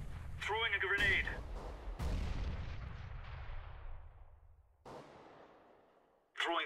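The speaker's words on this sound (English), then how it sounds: "Throwing a grenade." A grenade explodes in a shooter video game, with sharp loud blasts and booming reverberant tails trailing off, a short voice-like game callout at the start, and another burst at the very end.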